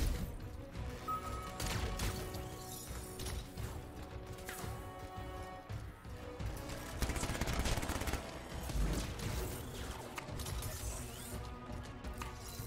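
Weapon fire in the video game Anthem, a dense, continuous mix of mechanical clatter and rapid gunfire bursts layered with game music and effects, steady and loud throughout.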